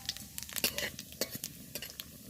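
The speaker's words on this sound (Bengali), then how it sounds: "ওই তেলে দিয়ে দিলাম দুটো শুকনো লঙ্কা আর দিয়ে দেবো গোটা জিরে ফোড়ন" Two dried red chillies and whole cumin sizzle in oil left from frying peanuts, with quick stirring scrapes and light clinks of a spoon against the pan.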